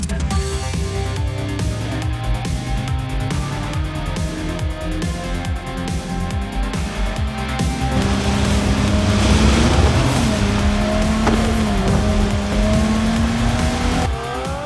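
A Lamborghini Countach driven through the streets of the video game Cyberpunk 2077, its engine note holding steady and then climbing in pitch as it accelerates, loud and continuous with no talk over it.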